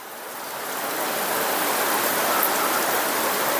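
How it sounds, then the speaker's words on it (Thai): Heavy rain pours down steadily outside a house, a dense, even hiss that swells slightly at the start and then holds loud and constant, with no voices. "ฝนตกเยอะมากๆครับ"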